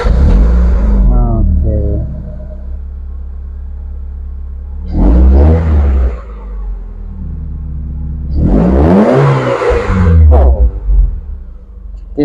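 A Honda SM4 car, back from a no-start fault after a fuel pump replacement, fuel filter service and rewiring, cranks and starts close by, then idles and revs loudly in two bursts; a voice briefly speaks.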